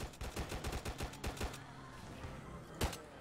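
Rapid gunfire from a zombie shooter in Roblox, a fast burst of sharp bangs followed by a pause and one more loud shot, fairly quiet overall.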